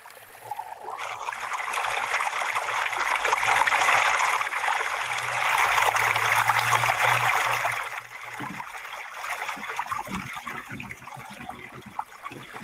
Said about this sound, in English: we put a fountain in here, and if you go, everyone goes over to the left, we can have a relaxing moment